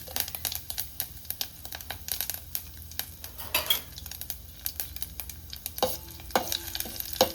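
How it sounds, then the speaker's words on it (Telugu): Mustard seeds, cumin and garlic fry in oil in a pan for amla rasam, sizzling close by with sharp popping crackles and clinking of a metal spoon against the pan, no talk. "కొంచెం ఆయిల్ వేసేసుకొని ఆవాలు, కొంచెం జీలకర్ర, వెల్లుల్లిపాయ,"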